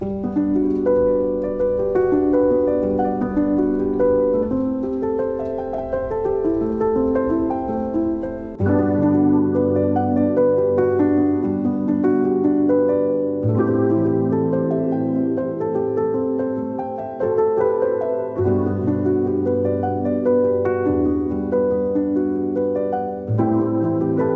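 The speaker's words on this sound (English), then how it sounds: "So instead of just playing every single key at once, you play them one at a time." Piano chords are rolled out one note at a time in a steady flowing pattern, the harmony shifting every few seconds, played alone.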